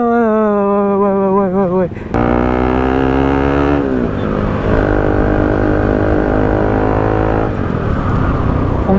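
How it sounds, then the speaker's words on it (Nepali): A Bajaj Pulsar NS 200 with an aftermarket Akrapovič exhaust revs hard and loud close by, its pitch climbing and falling, then settles into a deep, rumbling rev held steady, with voices audible over it. "वाइल्ड लाउड छ है एक्जस्ट"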